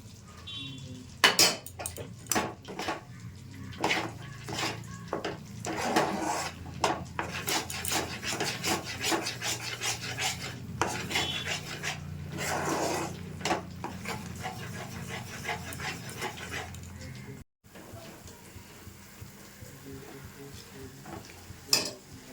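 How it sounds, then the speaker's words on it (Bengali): Hot oil poured into a sweet dough mixture for Dilkhush, then stirred steadily in a pan, giving close scraping and rubbing strokes with a soft sizzle, pausing briefly near the end before stirring resumes. "এবারে তেলটা দিয়ে দিচ্ছি গরম তেলটা"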